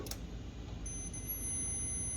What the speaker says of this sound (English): you should hear a beep